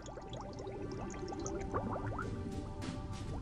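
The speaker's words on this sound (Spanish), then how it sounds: "¡Burbujas!" Cartoon underwater bubbles burble and pop in quick, rising blips over a soft watery wash, a busy stream of small bubbling sounds with no talking.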